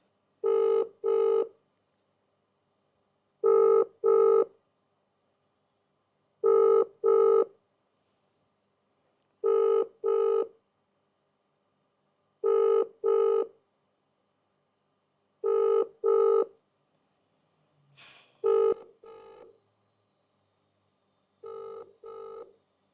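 A telephone rings for an incoming call with a clear double-pulse ring repeated about eight times at steady intervals, with near silence between rings and a brief faint noise near the end.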